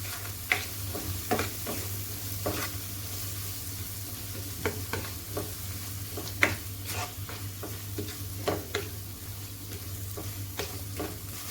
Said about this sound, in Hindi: साथ ही इसमें मैं टमाटर ऐड कर दूंगी। यहाँ पर मसाला रेडी हो रहा है।